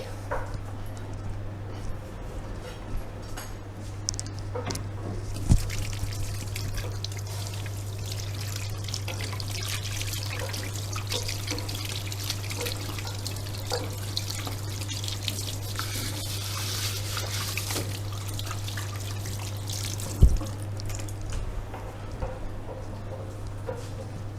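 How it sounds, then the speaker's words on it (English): Tap water runs softly while hands are washed in a home kitchen during a bread-baking demonstration; a quiet, steady trickle over a low electrical hum, with a couple of faint knocks. "I'm going to wash my hands"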